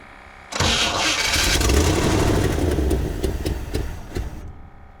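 A 1960 Chevrolet El Camino that has not run since 1998 cranks and catches, a sudden loud, rough engine roar that holds steady for several seconds, then cuts off abruptly, very close by.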